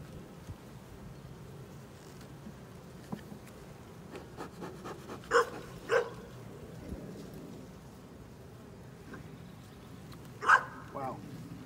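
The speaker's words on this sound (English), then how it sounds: "Neighbor's dog saying hello." A neighbor's dog barks several times at a distance, isolated sharp barks spaced over several seconds, heard beside a buzzing beehive as a beekeeper inspects a nuc.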